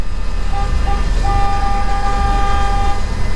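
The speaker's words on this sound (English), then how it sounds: "everybody just kicking it in their car, honking their horns" Car horns honk in a gridlocked street, one sustained toot followed by a longer steady blare, loud and close over a constant rumble of idling traffic.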